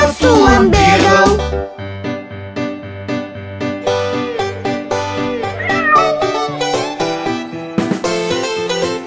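Kitten meows in a nursery rhyme song, several loud, drawn-out sung meows over a bouncy musical backing with a steady beat.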